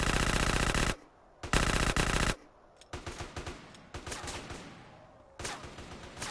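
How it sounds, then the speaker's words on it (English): Automatic gunfire in GTA San Andreas rattles in loud rapid bursts, several separate volleys broken by short pauses, with sharp repeated shots in each burst. "sheer automatic fire on those things just feels good"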